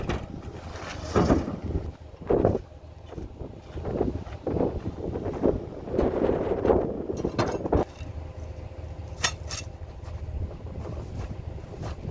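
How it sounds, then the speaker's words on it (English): Gusts of wind buffet the microphone in irregular rumbling bursts, with a few louder thumps and faint high clinks near the end. "It's so windy."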